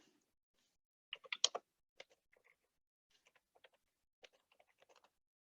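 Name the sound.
typing on a computer keyboard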